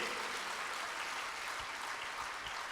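Clapping from a large audience at a religious discourse in Raipur, a dense, even wash of applause that holds steady throughout, with no voice breaking through.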